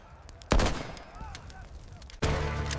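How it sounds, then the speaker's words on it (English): A Gatling gun fires in two sudden loud bursts of rapid gunfire, separated by a quieter stretch, close and forceful. "The Gatling gunner reacts, creating a thin ring of fire around Kenshin."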